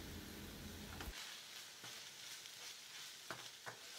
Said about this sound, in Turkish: Kavurma işlemine devam edelim.